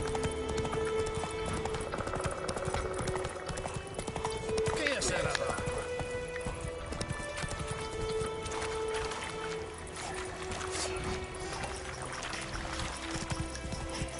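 The horse Roach gallops in The Witcher 3, steady rhythmic hoofbeats thudding throughout over a wash of ambient game sound, with a voice speaking at points.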